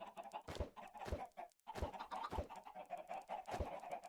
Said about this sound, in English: Let's throw some chickens.